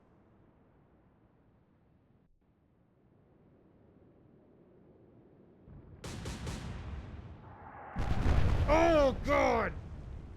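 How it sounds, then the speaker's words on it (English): Heavy naval gun salvo from warships in an Atlantic Fleet battle game, booming explosions building to a loud roar with whistling shell sounds near the end, as a man reacts with pained exclamations over it. "That was a devastating salvo."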